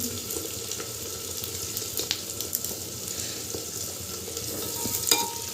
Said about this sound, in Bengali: পেঁয়াজটা একটু লালচে হওয়া পর্যন্ত আমি ভেজে নেব